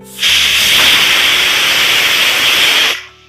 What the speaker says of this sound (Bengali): প্রেশার কুকারে ডাকনা লাগিয়ে চুলা রাস হাই হিটে রেখে পাঁচ মিনিট রান্না করুন